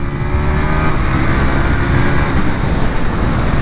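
KTM 890 Duke R motorcycle engine droning loud and close while riding, a dense continuous rumble blended with wind roar and no talk.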